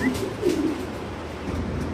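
A pigeon at a fancy pigeon farm gives a soft, low, close coo, a brief burbling call over a quiet murmuring background, with no talking.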